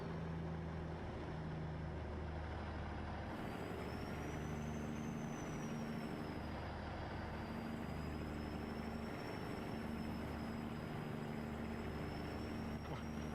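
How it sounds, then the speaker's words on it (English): A heavy American truck engine strains uphill, droning loudly and steadily, with a rising high whine laboring over the low rumble throughout, no voices present. "I love listening to this truck scream"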